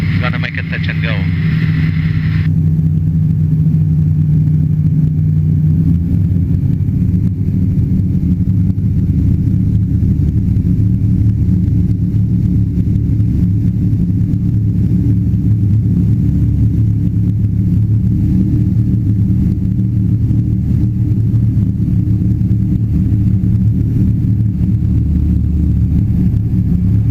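A microlight aircraft engine drones continuously and loudly from inside the cockpit during a touch and go, with a brief tone early and a voice heard over the engine.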